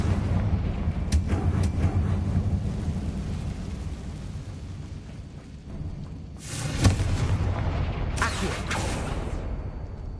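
Confringo blasting spell explosions in Hogwarts Legacy, a low rumbling background broken by a couple of sharp bursts, with a heavier boom near the end.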